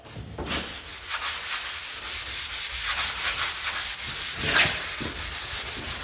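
Rusty metal is scrubbed with Comet cleanser, making a close, continuous gritty rubbing with rhythmic back-and-forth strokes of steady loudness and no voices.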